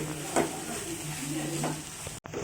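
Bitter gourd fry being stirred with sambar powder in a pan, a soft sizzle under a few spatula scrapes and knocks, ending in a brief cut to silence.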